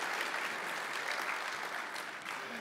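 A conference audience applauds the AV crew with a steady wash of clapping from many hands that holds evenly for a few seconds in a large room.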